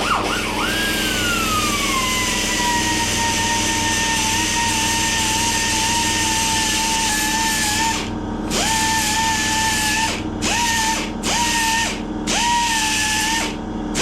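A belt grinder trims a steel fuel tank with a loud, close, continuous high whine that holds steady, then drops and recovers several times as the belt presses into the metal and eases off.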